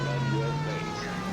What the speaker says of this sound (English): Okay, siren's on.